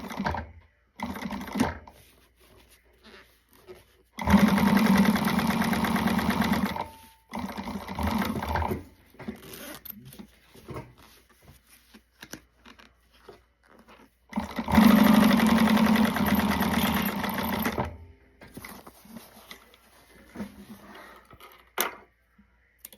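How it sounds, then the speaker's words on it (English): A sewing machine top stitches the exterior of a wristlet bag in two long bursts of rapid whirring stitching, each a few seconds long, separated by quieter handling noises and pauses. "We're only top stitching the exterior portion of the bag."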